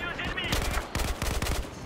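A CZ assault rifle in Battlefield 4: Naval Strike on PS4 rattles off a fast, steady burst of automatic fire, loud and close, after a short stretch of background game noise.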